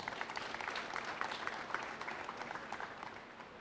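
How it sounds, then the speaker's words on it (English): Subdued, fairly distant applause from attendees at a customs ceremony commissioning the renovated Tin Can complex: a continuous patter of many hands clapping for several seconds, with no voices on top. "A round of applause for them, please."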